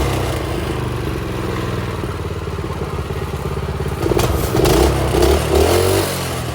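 Small minibike engine with a newly fitted throttle assembly runs steadily up close, then revs up louder with a rough, clattery buzz before settling back.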